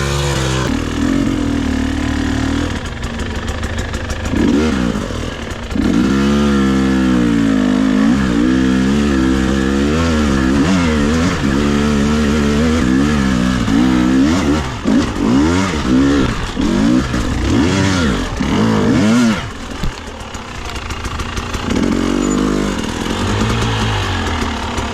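Dirt bike engines rev and strain loudly while riding over wet rocks and slippery leaves, with the pitch rising and falling through repeated throttle bursts across the whole run and no speech.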